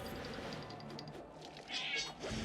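A cat unit meows in the mobile strategy game Phobies, a few short high cries standing out over a steady bed of game music and effects, fairly loud and close.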